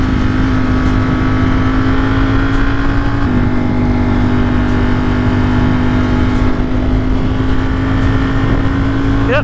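A Ducati motorcycle engine drones steadily while riding, a continuous loud hum holding a near-constant pitch with a slight shift partway through, dense wind and road noise underneath.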